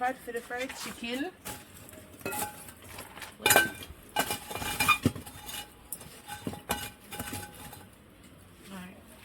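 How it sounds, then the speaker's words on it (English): Metal clinks and clanks as a pot is set up outdoors for frying chicken Jamaican style, with scattered knocks and scrapes of cookware and brief bits of voice around them. "Put on the pot for the fried chicken."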